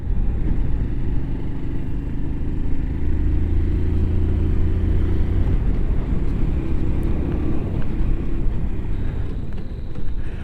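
A Zontes Mantis 125cc motorcycle heard while riding and dropping down through the gears: a steady, loud engine drone and road rumble throughout, its pitch shifting slightly as the revs change, with no talking.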